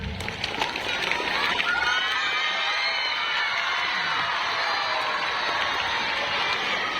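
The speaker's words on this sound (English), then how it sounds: "give a big round of applause for our beloved Father Principal" A large crowd of students cheers, whoops and claps for the Father Principal at a school Children's Day event, a loud, sustained roar of young voices that swells early and holds steady.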